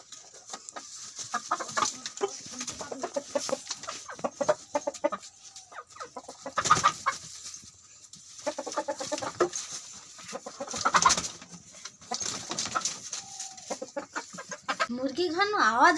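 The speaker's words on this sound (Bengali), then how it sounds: "মুরগি ঘন আওয়াজ আইছে দেখি," Chickens cluck repeatedly at close range in rhythmic bursts, with some louder squawks, against a quiet background.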